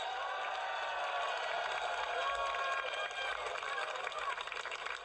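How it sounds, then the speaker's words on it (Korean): Dense crowd applause with some cheering fills a political rally for a gubernatorial-backed candidate, a steady loud wash of clapping throughout with no break. "여러분 박수 크게 한번 해주세요"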